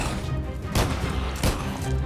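Gunfire in a Minecraft zombie apocalypse game, two sharp loud shots about 0.7 seconds apart over a dense game background.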